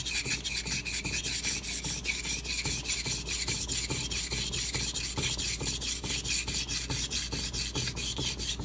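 A kitchen knife being sharpened on a whetstone with a Naniwa angle guide, a brisk run of rhythmic scraping strokes, about two per second, close and even throughout with no talk.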